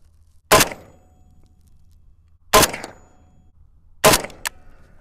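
Three 7.62x39 rifle shots firing Tula 123-grain full metal jacket rounds, each a sharp loud crack spaced about two seconds apart, heard at close range with quiet background between.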